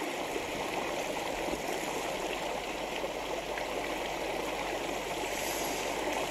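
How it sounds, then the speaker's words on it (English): A small creek in New Zealand, an old watering place, flows with a steady babbling rush of water that stays close and even throughout, with no voices. "This beautiful little creek here"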